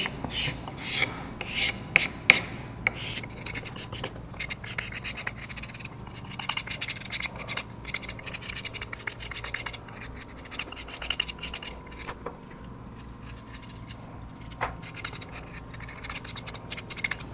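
Planer blades ground to shape scrape across the surface of a stamping mould, giving a steady run of close, dry rasping strokes that come thick at first and thin out toward the end, with no talk.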